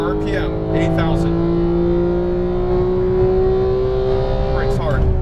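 A race car engine screams at high revs around 8,000 RPM in a steady, loud whine with shifting pitch, close and continuous, with a voice speaking over it.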